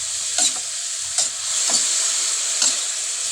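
Tofu sizzles and fries steadily in a pan while a utensil scrapes and stirs it in a few short, distinct strokes, close and fairly loud, with no talking.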